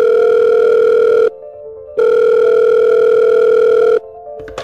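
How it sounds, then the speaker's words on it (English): A telephone rings loudly in two long electronic tones separated by a short pause, with a brief clatter at the very end. "The phone rings."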